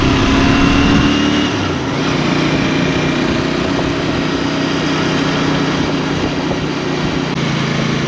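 A Royal Enfield Bear motorcycle engine revs close by, a loud, throaty rumble that climbs at first and then holds steady without pause.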